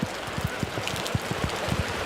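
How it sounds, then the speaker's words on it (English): Heavy rain pours onto a wet baseball diamond during a Queensland versus Victoria game, a steady broadband hiss with scattered low thumps of drops hitting surfaces close by, no talking over it. "This is the heaviest it's been, the rain all day."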